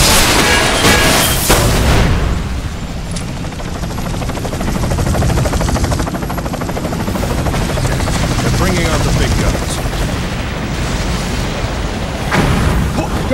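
Helicopter rotor in the Ninja Gaiden 3: Razor's Edge video game, a steady loud droning whir running through the whole stretch, with booming bursts at the start and near the end.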